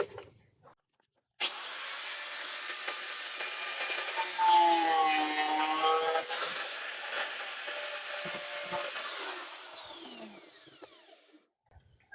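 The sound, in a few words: cutting off part of a speaker panel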